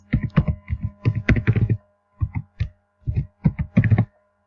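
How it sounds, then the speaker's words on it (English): Typing a name on a computer keyboard, bursts of crisp close key taps in quick runs separated by short pauses, ending in silence. "to fill that in, you just type in your name"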